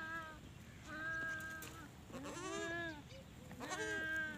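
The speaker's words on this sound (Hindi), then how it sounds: "टेडी बकरी के बच्चे देखते हैं।" Several teddy goat kids bleat in a village, three distinct quavering cries in short succession, close and fairly clear over a quiet background.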